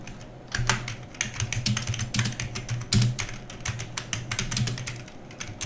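Fingers type on a computer keyboard while a short poem is entered, close and fairly loud irregular clicking with some heavier key presses standing out.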